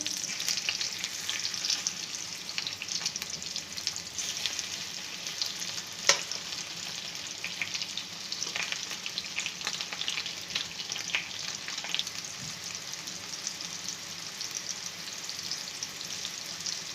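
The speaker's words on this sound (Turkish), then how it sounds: "Kaynabarlarımızı döndürerek her tarafını kızartıyoruz" Steady, close sizzling and crackling of cauliflower frying in hot oil, with occasional sharper pops and light stirring as the pieces are turned.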